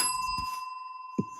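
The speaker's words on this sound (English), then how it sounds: "Give yourself a bell on that, my friend." A bell is rung once as a quick game-show style reward, a brief single strike over a steady background hum.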